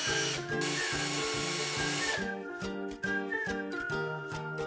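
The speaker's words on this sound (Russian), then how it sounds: "с помощью саморезов крепим камеру" A power driver whirs in repeated short bursts, driving self-tapping screws to mount a CCTV camera, with a loud, close, pulsing motor hum and faint metallic clicks between pulses.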